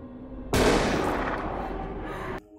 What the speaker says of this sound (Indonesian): Dengar suara tembakan di luar rumah, Lee mengintip dari jendela.